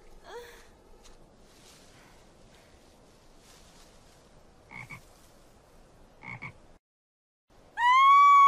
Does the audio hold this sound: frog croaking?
yes